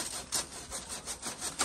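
A hand saw cuts through wood in rapid back-and-forth strokes, a raspy, evenly repeating scrape heard close and fairly faint.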